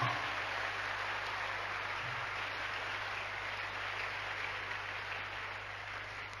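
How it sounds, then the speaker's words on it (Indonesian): Sustained applause from a large, packed audience at a live stage event, a dense steady wash of clapping that fills the room evenly for several seconds without any speech over it. "Beri aplaus buat mereka."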